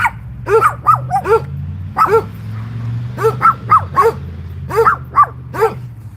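Dogs bark loudly and close by in short clustered bursts of sharp woofs and yips, with a low steady hum underneath and no talking.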